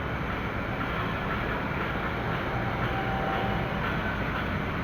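A dense, steady rumble of a KRL commuter train at a station platform, loud and unbroken, with a faint high squeal briefly riding over the roar.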